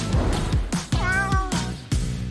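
Two kittens meow close by, several short high mewing calls in quick succession, clear and loud with no talking.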